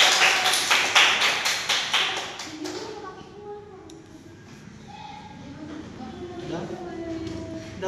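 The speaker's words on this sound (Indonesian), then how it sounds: "Tepuk tangan untuk kelompok 2." A school class claps in unison for the winning group: about a dozen sharp, rhythmic, close claps over roughly three seconds, followed by murmuring voices and talk in the room.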